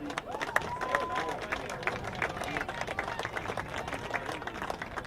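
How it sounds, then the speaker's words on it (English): An audience gives a round of applause, a loose spread of claps that carries on at moderate volume with murmuring voices mixed in. "Please give a nice warm round of applause for John Bowman"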